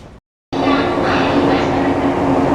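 A train in Japan pulls into a station, a loud continuous rumble and rolling roar of the carriages that starts after a short silent gap and holds steady to the end.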